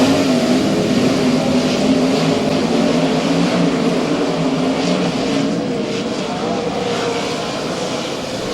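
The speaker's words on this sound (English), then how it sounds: "We got the green and we're back to racing in Heat 1" Race cars thunder around Skagit Speedway during a heat race, a dense, loud, continuous engine roar from the pack with no break across the stretch.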